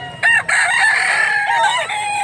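A gamecock stag crows loudly and close by, one long strained cock-a-doodle-doo with a rising start and a drawn-out wavering finish.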